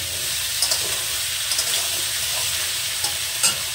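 Radish and puti fish curry frying and being stirred in a pan, a steady broadband sizzle with a few soft scraping clinks of a spatula, close and continuous with no talking.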